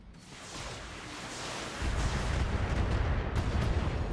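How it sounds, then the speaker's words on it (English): An ammunition explosion in the BattleTech mech combat video game, a loud broad rumbling blast that swells and sustains with heavy low-end roar for several seconds. "an ammo explosion was triggered by the pure force of the AC"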